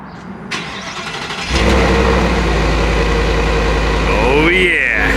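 A 2023 Ford F-150 XLT with the 5.0L V8 cold starts: a short starter crank, then the engine catches with a loud burst and settles into a steady, deep idle, close up, with a brief high whine near the end.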